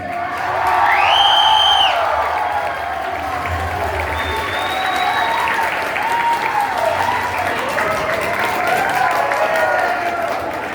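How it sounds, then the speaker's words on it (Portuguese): A convention audience applauds and cheers steadily to welcome a voice actress on stage at an anime event, with sustained dense clapping and a few whoops; a voice speaks briefly over the crowd. "Eu quero que vocês recebam com salva de palmas, Mariana Torres."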